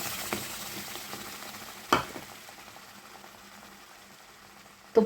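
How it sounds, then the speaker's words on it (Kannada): Ground mango pulp cooks in a hot kadai with no ghee or oil, giving a soft, continuous sizzle and bubbling, broken by a couple of sharp clinks, with no one talking. "ಈಗ ಕಡಾಯಿ ಕಾಯ್ದೈತಿ. ಮಾವಿನ ಹಣ್ಣು ರುಬ್ಕೊಂಡಿದ್ದು ಹಾಕ್ಕೊಳ್ಳೋಣಂತ."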